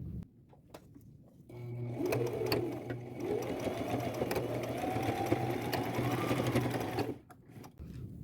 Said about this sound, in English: I am going to go over it a couple times with a zigzag stitch